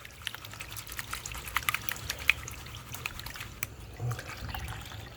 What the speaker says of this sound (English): you can see that is some really muddy, dirty water coming out of there